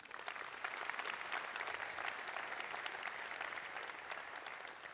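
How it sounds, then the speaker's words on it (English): A round of applause at an annual dinner, steady clapping from a seated audience heard at a distance, fairly soft and continuous. "Can we give PEB a round of applause?"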